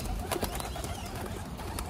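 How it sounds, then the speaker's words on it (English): Two saddleback baby pigeons about three weeks old make soft cooing and chirping calls in short, irregular bursts, close by and fairly loud over a noisy, rustling background. "right here we have ourselves two beautiful saddleback baby pigeons"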